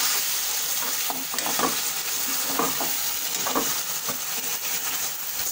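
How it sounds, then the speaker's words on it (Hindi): A spoon stirs a tablespoon of masala in a frying pan, with a constant hissing sizzle and soft scraping strokes coming in short bursts close by. "और ये यहाँ पे मैंने वन टेबल स्पून मसाला इसमें ऐड कर दिया है और फिर से मैं इसमें चम्मच हिला रही हूँ इस तरह से"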